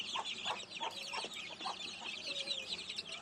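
A group of 25-day-old chicks cheeps and peeps close by in a quick, uneven series of high calls, alone without any talk.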